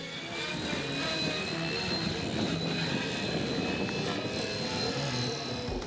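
A radio-controlled RC helicopter flown by national team pilots at a flight demonstration, its engine and rotor drone steady and fairly loud throughout with no voices.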